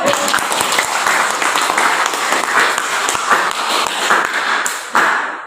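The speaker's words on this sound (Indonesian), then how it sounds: "saya minta tepuk tangan yang meriah untuk kita semua" A classroom of students gives a lively round of clapping during a teaching practice lesson, sharp individual claps blending into a brisk, continuous patter that cuts off near the end.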